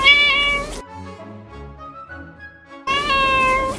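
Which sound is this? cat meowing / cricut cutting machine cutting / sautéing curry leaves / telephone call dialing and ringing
cat meowing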